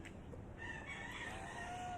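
A rooster crows faintly in a farmyard where a duck is kept, a single drawn-out call rising over low background noise, with no voices.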